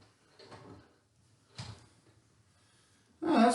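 A bifold door is opened and shifted along its track, making scattered soft knocks and scrapes with pauses between them, then a louder close rattle of panels at the end.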